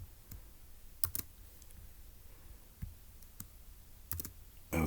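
Someone typing notes on a computer keyboard while working a Turing Machine logic puzzle, giving sparse, close key clicks and a few quick double taps separated by pauses, ending in a louder clack.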